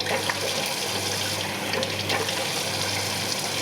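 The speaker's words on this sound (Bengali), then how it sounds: "তো হয়ে গেছে এখন মুখটা ধুয়া ফেলাই" A running tap splashes steadily while someone washes their face, with a continuous close rush of water and no talking.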